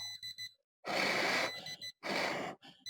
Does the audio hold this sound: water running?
no